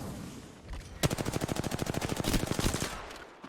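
Rapid automatic gunfire in Apex Legends, a fast even burst of shots lasting about two seconds after a brief lull, loud and close with no talk over it.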